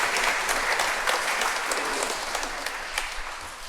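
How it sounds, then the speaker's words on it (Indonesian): A church congregation at an Easter Sunday Mass claps together in a dense, steady burst of applause that fades slightly toward the end, with no talking. "Kita beri tepuk tangan untuk kita semua."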